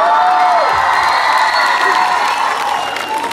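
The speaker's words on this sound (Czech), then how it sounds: "Vidíš, jak ti tleskají?" An audience applauds steadily at a live concert, the clapping loud and continuous throughout with a melodic tone ringing above it.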